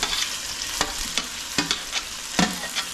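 Chicken biryani masala sautéed over high heat in a pan, a steady close sizzle with sharp scraping stirs of the spoon at irregular moments, no talking.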